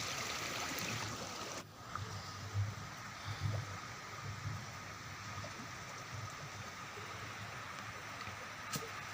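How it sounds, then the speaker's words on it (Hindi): Steady rushing of river water flowing through a gharat, a traditional stone watermill whose paddle wheel turns two millstones, a continuous broadband wash with a few brief knocks and splashes. "यह पैडल नुमा टायर पानी के बहाव से घूमता रहता है, जिसके ऊपर दो पत्थर लगाए जाते हैं।"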